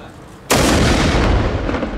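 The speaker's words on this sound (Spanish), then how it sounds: "vemos ese último disparo" A single loud 16th-century artillery cannon shot at a historical firing demonstration, booming suddenly after a quiet moment and rumbling on with a long, heavy decay.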